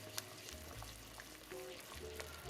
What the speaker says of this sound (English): I'm going to continue to cook our sauce on a medium-low heat for about 3 to 4 minutes.